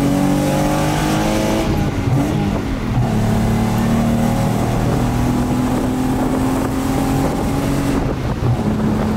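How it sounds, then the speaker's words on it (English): A car launches and pulls hard through the gears, a loud close engine roar rising in pitch with gear changes and wind buffeting the microphone. "I'm gonna launch it."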